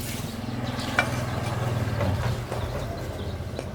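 Vegetables go into a hot pan and are stirred while cooking Thai jaew, giving a soft sizzle with a few scraping stir knocks over a steady low hum.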